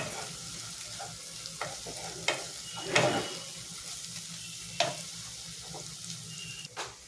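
Egg curry masala with green chili frying and being stirred in a pan, with a steady sizzle broken by repeated spoon scrapes and clinks, close and fairly loud, no talking.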